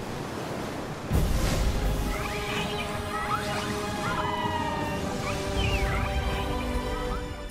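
Orca calf crying out in distress, a series of gliding, wavering tonal calls and whistles over steady ocean surf and noisy underwater wash, with a sudden crash near the start.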